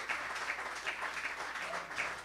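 Applause from an audience at the Nixa Touchdown Club coaches show, steady clapping filling the whole short stretch at moderate volume.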